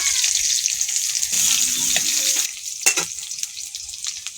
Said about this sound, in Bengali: তেল গরম হয়ে গেছে, ফোড়ন দেবো, শুকনো লঙ্কা, পেঁয়াজ কুচি দেবো